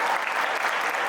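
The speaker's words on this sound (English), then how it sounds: "Let's clap for that" Audience at a live stream event bursting into dense, continuous applause, many hands clapping at once with no pause.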